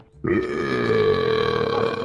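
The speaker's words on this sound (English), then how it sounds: "Since she burped." One long, loud, drawn-out burp in Roblox voice chat rumbles up close for about two seconds, deep and throaty with a clear pitched tone, after a brief quiet moment.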